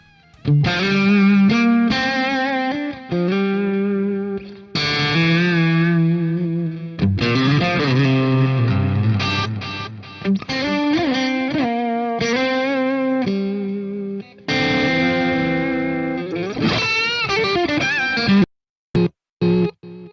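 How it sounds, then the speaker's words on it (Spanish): Distorted electric guitar through an analog delay, playing sustained lead lines in the style of Andy Timmons' Falling Down, with soft repeats trailing beneath each note. Loud and close, with several brief pauses between phrases. "un delay analógico suena muchísimo mejor que un delay digital"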